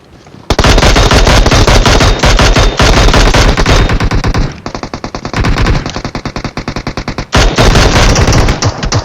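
Loud, continuous automatic gunfire in a mobile shooting game, long rapid bursts with brief gaps and a stretch of slightly quieter staccato shots, with no talking over it.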